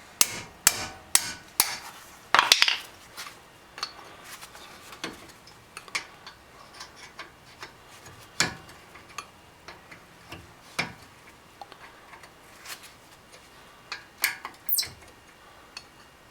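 A ratchet wrench breaks loose a bolt on Mazda brakes, clicking in quick irregular bursts of sharp ticks and taps close by, with no talking.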